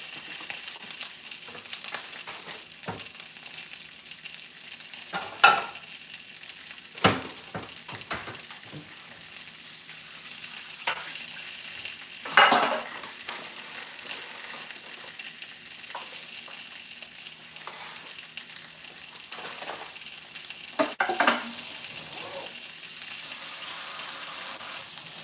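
Sausages frying in a pan, a soft continuous sizzle and crackle with occasional louder pops and clatters of handling scattered across the stretch, no speech.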